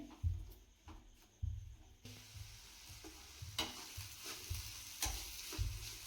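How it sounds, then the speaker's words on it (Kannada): Vegetables for fried rice fry and sizzle in a pan, with repeated scraping stirs every second or so; a steady close hiss runs beneath the louder clatter of the stirring. "ಇದು ತರಕಾರಿ ಎಲ್ಲ ಚೆನ್ನಾಗಿ ಫ್ರೈ ಆಗಲಿ."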